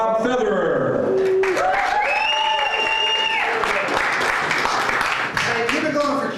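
Audience at a comedy night claps and cheers to welcome a comedian to the stage, sustained loud applause with whoops and voices mixed in throughout.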